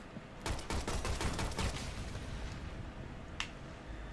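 Rapid bursts of pistol gunfire in a shooter video game, with a dense run of sharp shots in the first couple of seconds, then fading rumble and one more distant crack later.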